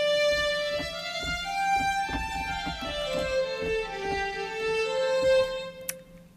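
Embertone Friedlander solo violin ensemble with intonation variation switched off plays a legato phrase. A sustained note steps downward through several pitches with audible bow and finger noises, close and fairly loud before tapering off.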